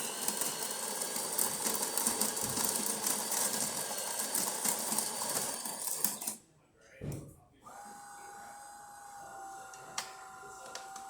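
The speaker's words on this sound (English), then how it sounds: "let's go ahead and test it and make a espresso shot on it." A DeLonghi Magnifica Evo espresso machine, after a full service, drones loudly with a steady mechanical buzz, cuts off briefly, then resumes as a softer steady hum with a faint tone while brewing an espresso shot.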